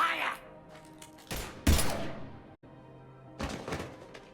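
Gunfire in the Mass Effect 3 video game: a few loud bursts and heavy thumps stand out amid game ambience, separated by quieter stretches, with a voice heard early on.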